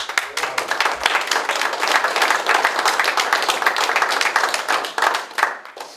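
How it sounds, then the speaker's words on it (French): Audience applause fills a museum exhibition opening, dense steady clapping from a sizeable crowd that holds for several seconds before tapering off at the end. "Je crois qu'on peut les applaudir."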